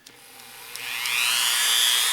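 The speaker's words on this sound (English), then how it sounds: "use a Dremel tool with a sanding bit in it" A Dremel rotary tool with a sanding bit spins up, its whine rising in pitch and growing louder into a steady high-pitched buzz as it grinds.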